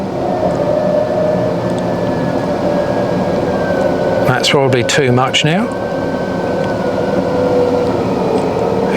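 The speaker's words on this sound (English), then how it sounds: "Listen to the winch motor note." A vehicle winch motor pulls a rope under tension, giving a steady electric whine and hum that holds throughout and rises slightly in pitch. Someone speaks briefly midway over the motor.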